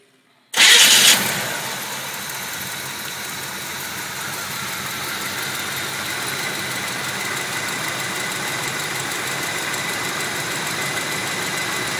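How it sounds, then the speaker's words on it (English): A car engine cranks and catches after a fuel filter change, a sharp loud start then settling into a steady, even idle that runs on alone without talk. "go ahead and start it up and make sure we don't have any leaks underneath it"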